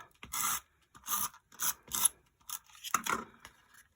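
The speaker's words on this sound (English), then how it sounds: "So I'll just do the tape runner." A tape runner lays adhesive on card in a series of about seven short, close rasping strokes, each a quick scratchy pull separated by brief pauses.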